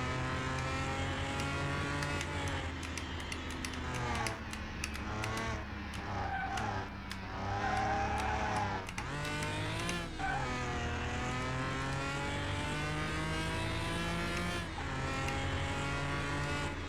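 A car in the Car Mechanic video game drifts and slides hard to control, its engine holding a loud, continuous whine that swoops up and down in pitch as the tyres break loose, with no talking over it.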